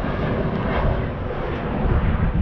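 An airplane flies overhead, a steady, loud broadband roar filling the whole stretch without letting up, with no talking.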